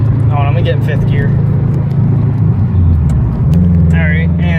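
A tuned Subaru WRX with a torque performance tune, VF52 turbo, cold air intake, full RSR exhaust and Grimmspeed boost controller, accelerating in fifth gear. A loud, steady engine drone rises in pitch, with brief talk over it.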